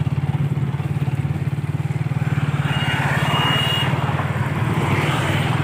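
An old motorbike engine runs steadily and loud on a rough road, its rapid even thumping pulse continuing throughout with no talk.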